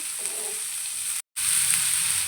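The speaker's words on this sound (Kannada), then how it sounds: "ಇದೆಲ್ಲ ಫ್ರೈ ಮಾಡ್ಕೊಬೇಕು ಹಸಿ ಸ್ಮೆಲ್ ಹೋಗೋವರೆಗೂ ಸ್ವಲ್ಪನೇ ಫ್ರೈ ಮಾಡ್ಕೋಬೇಕು" Masala ingredients with onion and garlic fry in a pan for a paneer gravy, a steady close hiss of sizzling oil with a brief cut partway through.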